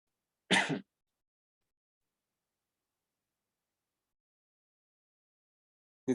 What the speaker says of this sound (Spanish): un poco de tos seca